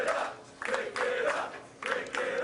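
A bowling crowd at the PBA Tour Finals in Steel City gives several short, loud bursts of cheering and clapping, each swelling and dropping away.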